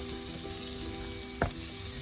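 Red chili powder, coriander powder and degi mirch fry together in a pan, giving a steady close sizzle with a brief stir or scrape of the spoon partway through.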